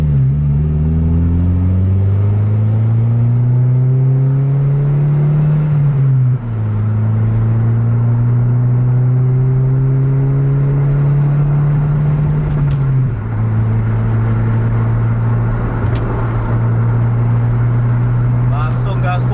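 A bus engine pulls hard at full throttle on a Sumatran highway at night, loud and close, its rising pitch breaking at two gear changes before climbing again, with voices speaking over the drone.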